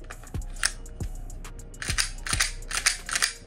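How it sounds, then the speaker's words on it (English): A magazine handled and seated into a Glock pistol, a handful of sharp close metallic clicks and snaps spread unevenly, with a quicker cluster of rattles near the end. "Let me throw that mag in there."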